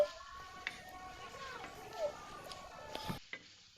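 Shrimp and winter vegetables frying in a pan, stirred with soft scraping strokes over a faint, steady sizzle; quiet and close, with a hint of voice in the background.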